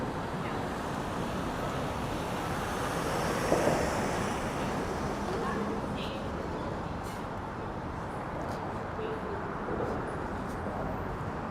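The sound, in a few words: wind outdoors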